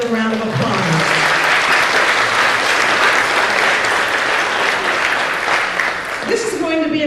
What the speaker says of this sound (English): So let's give Ralph and Dr. Morris another round of applause